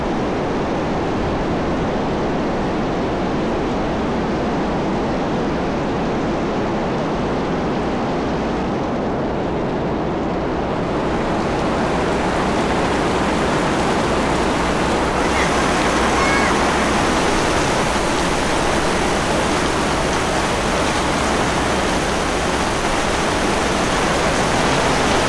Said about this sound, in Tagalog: Sakto lang yung mga ganong ulan, malakas pero sandali lang